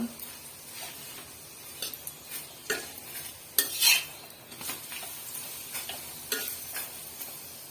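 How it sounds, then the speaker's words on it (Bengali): A paratha fries in a pan for breakfast with a soft sizzle beneath, broken by repeated scraping and clinking of a utensil against the pan, close and moderately loud. "তো পরোটাটা ভেজে নিচ্ছি সকালে চায়ের সাথে নাস্তা"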